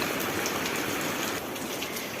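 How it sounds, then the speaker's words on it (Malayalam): Steady heavy rain with wind pours down in a dense, hissing wash, loud and close, with no voices. "ഉച്ചയായപ്പോഴത്തേനും തുടങ്ങിയില്ലേ നല്ല സുന്ദരം കാറ്റും മഴയായിട്ട്"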